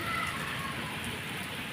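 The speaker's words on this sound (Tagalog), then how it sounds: "Pinatikim nyo kami ng ulan." Rain in Qatar patters steadily on a surface nearby, a dense even hiss with scattered drops, no voices.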